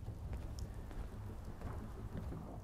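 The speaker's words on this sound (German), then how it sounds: "Jetzt regnet es auch noch." Steady rainfall with low rolling thunder in a Fallout 4 game world, a continuous wash of rain and deep rumbles filling the scene with no voices.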